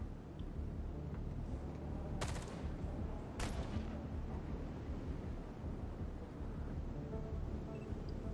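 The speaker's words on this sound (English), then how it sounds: "More gunfire." Two sharp bursts of gunfire crack out in the video game Xenonauts 2 over a steady low rumble of background noise, fairly loud and close.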